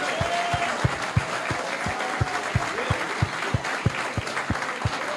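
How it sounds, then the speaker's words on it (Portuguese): A church congregation claps in steady unison, sharp regular beats about three per second over a soft bed of crowd noise and a sustained pitched voice or instrument, moderately distant. "vamos dar salva de palmas"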